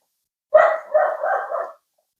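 A small dog gives one close, drawn-out bark that breaks into a wavering yowl for just over a second indoors, then falls silent.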